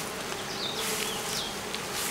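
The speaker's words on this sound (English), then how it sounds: "You'll see the bees are all on the side wall." Honey bees hum steadily in an opened hive, a dense close buzzing drone with occasional individual bees whining past, continuous and without talk.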